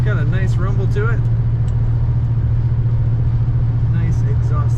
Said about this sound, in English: Nice exhaust sound.